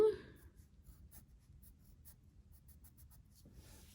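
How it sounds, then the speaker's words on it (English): A pen scratches across paper while fine details are added to a drawing of buildings, giving soft, close, intermittent strokes against a quiet background. "I'm gonna do some finer writing on some of my buildings"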